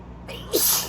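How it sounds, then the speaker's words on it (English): A single close, sharp human sneeze bursts out abruptly after a faint breathy intake, loud and alone with no talking. "I'm gonna sneeze."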